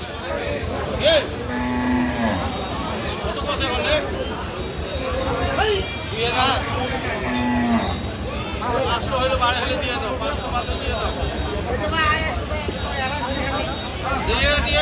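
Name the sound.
Sahiwal cows mooing at a cattle market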